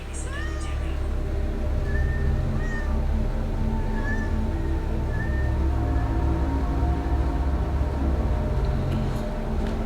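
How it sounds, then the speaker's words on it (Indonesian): Several cats meow in short rising calls over a dense low background hum, fairly clear and spaced out. "Kenapa tiba-tiba banyak kucing?"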